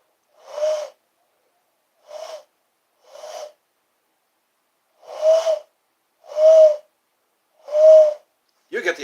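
A person imitates an owl's hoot with seven separate, low, hollow calls, spaced irregularly with silent gaps between them and growing slightly louder toward the end, with no other sound behind them.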